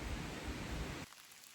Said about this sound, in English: It's a nice rainy morning.